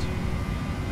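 Boeing 737-800 engines at take-off power in a PMDG flight simulator, a steady loud roar filling the whole moment with no pauses.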